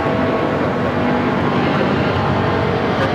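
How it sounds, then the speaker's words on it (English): A United Airlines Boeing 777-200 takes off from LAX bound for Honolulu, a loud, continuous jet engine roar that holds steady throughout, with no talk. "This is United Airlines 1170 taking off to Honolulu on the 777-200"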